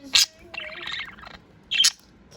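A pet budgie gives two sharp, bright chirps close by, with soft warbling chatter between them, heard alone without talking.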